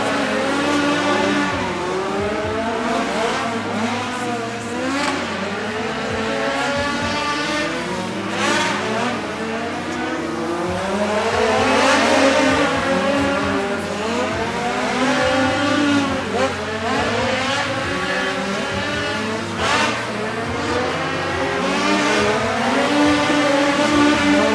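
Race cars circling a wet, slick dirt track during heat races, engines roaring and revving continuously as they pass, loud and sustained with rising and falling pitch, while people talk over the noise.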